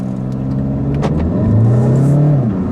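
A 2015 VW Golf Sportwagen TDI diesel wagon accelerating hard on a track, its engine note rising steadily over a few seconds, loud and close from inside the car, with no voices.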